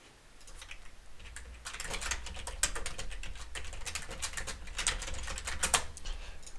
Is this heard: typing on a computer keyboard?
yes